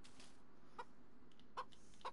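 A chicken clucks three times in the DayZ video game, short soft bursts spread apart, faint over a steady background hiss.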